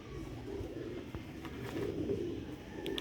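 A Sialkoti pigeon coos softly amid a low rooftop background hum, with a faint click or two and no clear talking.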